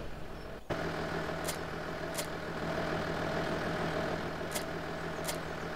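Tractor engine idling in Farming Simulator 17, a steady low hum with a constant tone that starts abruptly and holds evenly, with a few faint clicks on top.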